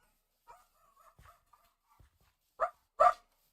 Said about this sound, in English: Don't ask what they're barking at.